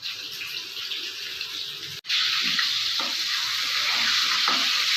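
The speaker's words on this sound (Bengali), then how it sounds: "দেখ আলুটা ফ্রাই করবো, এখন।" Potato pieces seasoned with salt and turmeric fry in a pan with a continuous bright sizzle that jumps louder after a brief cut partway through.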